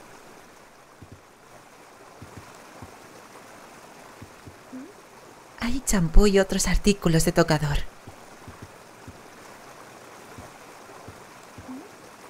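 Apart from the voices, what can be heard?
hot water running into bathtub in video game Raw Danger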